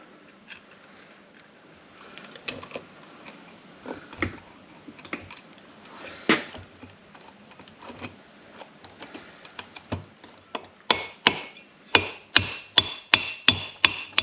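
Metal tool tapping a CV joint onto a VR Commodore tail shaft, many sharp taps of mixed strength that tighten into a steady run of louder regular knocks toward the end, with quieter shuffling clicks before.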